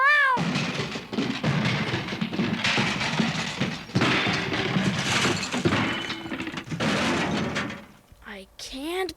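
Cartoon cat slashing apart a doghouse with one swipe of its paw: a loud, dense crashing and shattering burst lasting most of the moment, with a meowing cat cry at the start and a brief quiet, then sounds resuming at the end.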